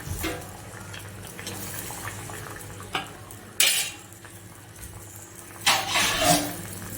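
Kathiyawadi dhokli sabzi is stirred in a metal pot, with spoon scrapes and clinks against the sides, then a louder clang as the lid goes on, all close and intermittent over a low background hum.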